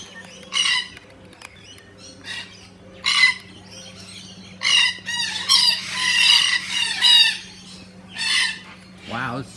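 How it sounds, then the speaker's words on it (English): Macaws at Featherdale Zoo in Australia squawk loudly in repeated harsh bursts, some overlapping into a dense raucous stretch, with steady low background hum throughout and a rising whistle-like call at the end. "the macaws are really squawking over here"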